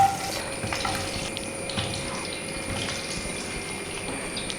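Raw banana pieces frying in melted ghee alongside pork, giving a steady, close sizzle with a faint tonal hum running underneath and no voices.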